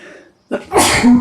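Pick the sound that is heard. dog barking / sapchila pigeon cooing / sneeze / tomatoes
sneeze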